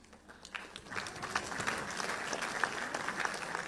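An audience applauds a singer at a ceremony celebrating the Shivaji forts' UNESCO listing, with steady, dense clapping that builds up and holds at a moderate level.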